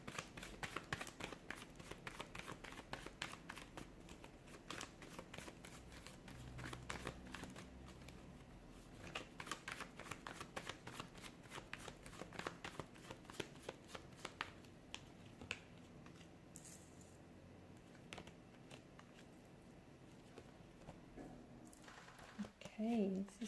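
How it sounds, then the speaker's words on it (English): Tarot cards being shuffled by hand, a long run of crisp riffling and snapping flicks with brief pauses, close and fairly quiet, with soft handling sounds between bursts. "give the cards a shuffle and begin"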